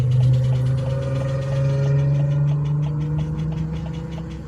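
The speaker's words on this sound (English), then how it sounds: "hear the clicking now because I'm stopped" A stopped car idles with a transversely mounted engine, its low steady hum carrying a fast, regular ticking or clicking throughout, close and continuous with no speech.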